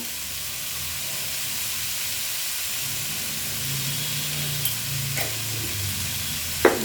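Potatoes and onions fry in a covered pan over a low flame, a soft, even sizzle and steamy hiss with a couple of faint clicks and a sharper knock near the end.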